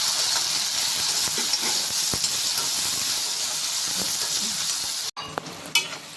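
Tomatoes sizzle steadily in a hot pan for garlic kara kulambu, a continuous close crackling fry with occasional stirring knocks and a brief clatter near the end.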